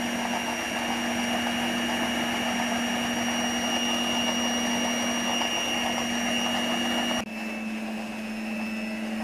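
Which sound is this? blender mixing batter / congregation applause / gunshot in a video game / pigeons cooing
blender mixing batter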